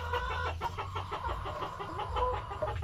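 Chickens clucking steadily as they eat home-mixed feed on a farm, a dense overlapping chorus of close, busy fowl sounds with no talk.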